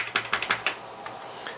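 Keys tapped on an Amiga 1000 keyboard with some dead keys, a quick burst of five close clacking keystrokes followed by a few sparser, fainter taps.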